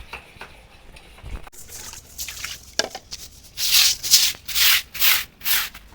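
Scrubbing and rubbing things clean, first with soft scattered scrapes, then a run of loud, rhythmic, close-up rubbing strokes.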